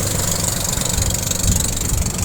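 A tourist boat's engine runs steadily during a boat race, a loud, rough mid-pitched drone close by with no break.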